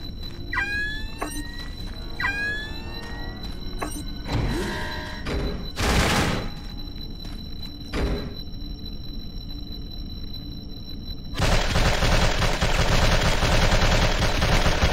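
Bursts of gunfire from an unmanned turret station in the PS2 game Secret Service, with several sharp shot clusters and a dense sustained burst near the end, loud over a steady game background hum.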